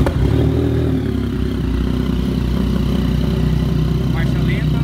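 A Yamaha MT-09 with a Firetong Flame exhaust idles close by, a loud, steady low rumble with a slightly uneven beat throughout, and a voice briefly heard over it.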